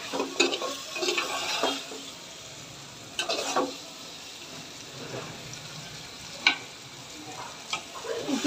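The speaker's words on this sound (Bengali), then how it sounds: "সিদ্ধ করা কচুরমুখী আর আলু ঢেলে দেব। ভালো করে কষে নেব" Boiled taro corms and potatoes are sautéed in hot oil in a pan, a low sizzle broken by irregular bursts of spatula scraping and stirring, with a faint clatter of cookware and no talking.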